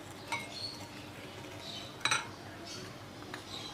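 A spoon clinks faintly against a vessel while powdered sugar is stirred into milk for balli malai, a few light taps over a soft, steady background.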